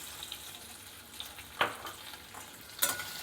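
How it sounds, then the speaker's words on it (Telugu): Potatoes fry in hot oil on a stove for aloo palak, a quiet, crackly sizzle with two sharper pops or stirring scrapes standing out. "ముందుగా పొటాటోస్ని మనం ఫ్రై చేసుకోవాలి"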